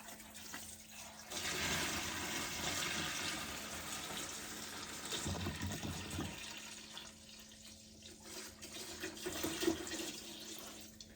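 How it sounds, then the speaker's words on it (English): Cherry melomel mead pours from a height into a fermenting vessel, a splashing liquid stream running for several seconds, pausing, then pouring again. "And then I can pour this from a great height, which will oxygenate it"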